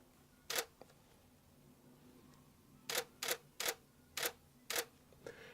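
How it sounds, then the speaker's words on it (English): Canon 6D Mark II DSLR shutter firing six times, one isolated click followed after a pause by five evenly spaced crisp snaps, close and clear in a quiet room. "And of course, the shutter sound. Listen to this, listen to this."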